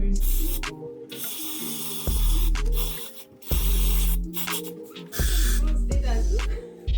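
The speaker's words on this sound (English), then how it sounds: "I'm just gonna spray this part." Short bursts from a spray bottle hiss onto a wig, several loud, close sprays separated by pauses, with some low background noise between them.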